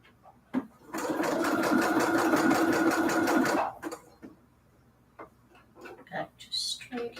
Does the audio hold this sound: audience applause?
no